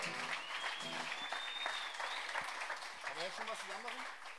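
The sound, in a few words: audience applause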